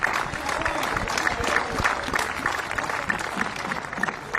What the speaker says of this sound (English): And keep your applause going for our runner-up in the Australian Open Wildcard Playoff 2017, JP Smith.